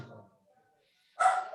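A dog named Brooklyn lets out a single sharp bark over a video call. The bark comes after a trailing voice and a short silence, loud and close, and cuts off at the end.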